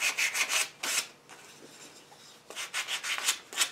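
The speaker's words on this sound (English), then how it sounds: "do a little hand sanding on these." Wooden toy dump truck parts being hand sanded, a series of close, scratchy rubbing strokes in quick rhythmic bursts with a short pause midway, no talking.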